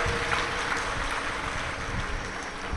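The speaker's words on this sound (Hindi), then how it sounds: "एक बार जोरदार ताली बजाकर" A dense, sustained wash of applause fills the space as an audience at a Shiv Mahapuran katha in Madhya Pradesh claps loudly in welcome, steady and unbroken throughout.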